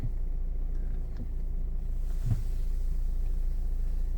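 Renault Megane III 2013 hatchback with a 1.5 diesel engine and six-speed manual gearbox idling at steady revs, a constant low rumble recorded close up with a faint click midway.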